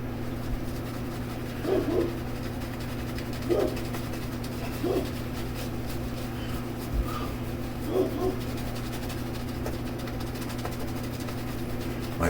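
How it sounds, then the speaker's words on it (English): A dog barks indoors in short, spaced bursts, about five or six across the stretch, moderately loud over a constant low electrical hum. "My dog."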